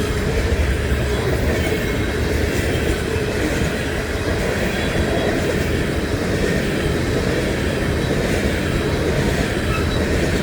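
A freight train of empty grain cars rolls past close by, a loud, steady rumble and rattle of wheels that continues unbroken the whole time.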